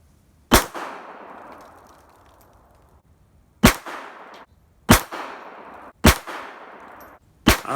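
Five loud, close single-action pistol shots in .32 ACP, fired at uneven intervals with sharp cracks and ringing decays between, from a Beretta 1935, Beretta 81 or Kel-Tec P32.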